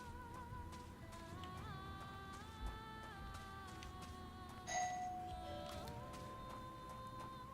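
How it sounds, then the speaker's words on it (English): A doorbell chimes once partway through, a faint ding-dong over steady background game music and ambience. "That was my doorbell."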